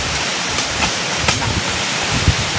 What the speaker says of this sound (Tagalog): Rumaragasan na yung ilog boy